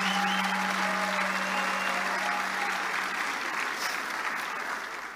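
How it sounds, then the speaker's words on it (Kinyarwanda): An audience at a book launch ceremony gives sustained, dense applause. Many hands clap steadily for about five seconds, with a few faint voices underneath, before the applause begins to fade. "Madame Bizimana Muhebera, reka dukomere Imana amashyi kubwe."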